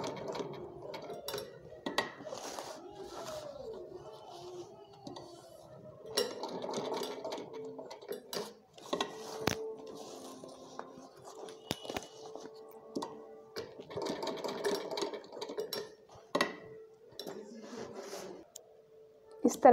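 Sewing machine stitching a small fabric butterfly onto a pencil pouch, with quiet intermittent runs of stitching and mechanical clicks, mostly beneath a voice speaking throughout.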